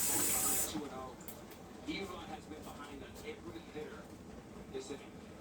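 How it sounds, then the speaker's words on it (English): Running water splashes over a metal cheesecake pan being rinsed in a kitchen sink, a loud hissing spray at first that drops to a softer trickle with light clatters. "Now, you rinse the pan back a little bit."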